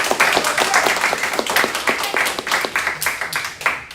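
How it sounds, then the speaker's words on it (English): An audience applauds competing teams at a Latin certamen semifinal, a few dozen hands clapping in quick, uneven bursts close by before the sound begins to thin out. "So let's give them a round of applause."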